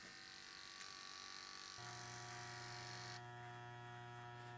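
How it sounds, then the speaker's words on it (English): Electric hair clipper running steadily during a barber's haircut, a close, even buzzing hum whose pitch shifts slightly partway through as the blade cuts, with no speech. "let the clipper cut, let that blade cut as we pull away"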